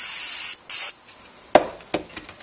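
Cleaner sprayed into the volume control of a NuTone Model 2570 intercom: two short close hissing bursts, then two sharper fainter puffs, with brief quiet gaps between them.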